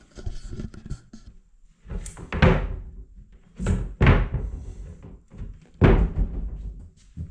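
Wooden cabinet doors in a home with uneven concrete floors and ceilings, swung open and shut several times, giving hollow thunks and slams spaced a second or two apart, close by and alone.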